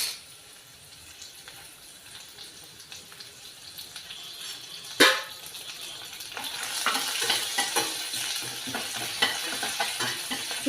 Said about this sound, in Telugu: ఈ తాలింపు బ్రౌన్ కలర్ వచ్చినంత వరకు వేయించుకోవాలి.